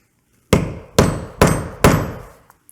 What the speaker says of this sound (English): this is just a little craft tool riveter. It just helps hold that cap down.